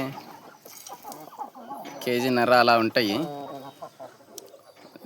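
Farm chickens and roosters cluck nearby, and one rooster gives a loud crow midway, while someone talks over the birds.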